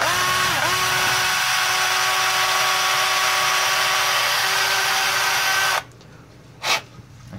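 A power drill bores a hole into a plastic game controller shell with a steady, loud whining buzz held for several seconds, then it cuts off to near silence and a single short clunk.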